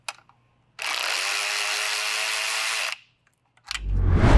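A ratchet wrench works on a 12 millimeter bolt on a 2022-or-later Subaru WRX, with a sharp click, then a sustained two-second burst of rapid close ratcheting, a pause, and another rising burst of clicking.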